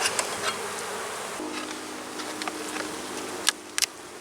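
Honey bees swarm and hum around an opened hive with ten frames during an inspection, a steady close buzzing drone broken by a few sharp clicks and taps from handling.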